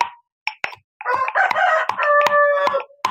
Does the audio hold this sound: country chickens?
yes